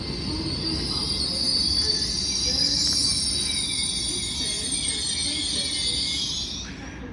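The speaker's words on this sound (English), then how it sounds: "Departing now is your 1252 LNER Azuma service from London King's Cross to Leeds." An LNER Azuma train departs Peterborough station, its wheels giving a sustained high squeal over a rumbling roll that fades toward the end.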